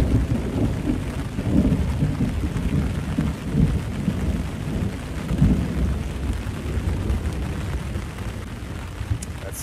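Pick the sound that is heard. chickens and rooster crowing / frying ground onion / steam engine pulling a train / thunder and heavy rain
thunder and heavy rain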